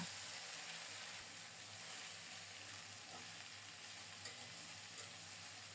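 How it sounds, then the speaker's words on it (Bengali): Crushed garlic frying in hot mustard oil gives a faint, steady sizzle that runs throughout, with soft stirring scrapes now and then; no voices. "সরিষার তেল গরম হলে ছেঁচে রাখা একটা রসুন দিয়ে দিলাম নেড়ে চেড়ে রসুনটাকে একটু লালচে করে ভেজে নেব"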